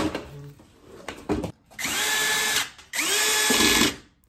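A power screwdriver tightens screws on the cover of an electric clothes-drying rack's motor unit, whirring in two sustained close bursts after some light handling clicks.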